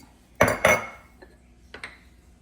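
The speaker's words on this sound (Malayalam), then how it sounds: "ആദ്യം ഇറച്ചി ഒന്ന് കുക്കറിലോട്ട് ഇട്ട് കൊടുക്കാം" Two sharp metallic clanks as pork drops into a metal pressure cooker, followed by a couple of lighter knocks.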